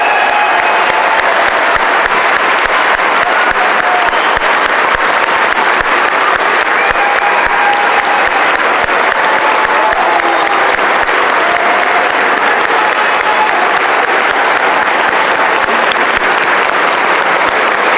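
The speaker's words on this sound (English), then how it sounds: "Please give these two remarkable individuals a round of applause." Applause at a high school graduation ceremony: a large crowd claps loudly and steadily for the whole stretch, with faint cheers mixed in.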